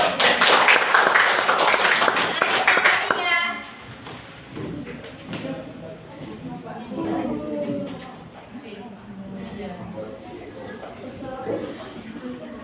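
Children in a classroom lesson clap their hands together in a brisk burst of close, lively applause lasting about three seconds, after which it stops and a voice talks over a quieter room.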